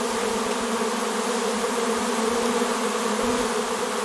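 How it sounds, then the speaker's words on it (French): A huge honeybee swarm flying around and landing on a beekeeper beside a Dadant hive, a steady close buzzing drone with no pauses and no talk. "Quand on vous dit qu'un essaim ça pique pas, voilà. Elles sont en train de se poser sur moi."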